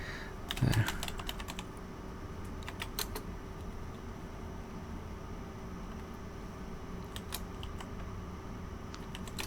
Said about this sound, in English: I didn't exactly catch that, but I was already typing something.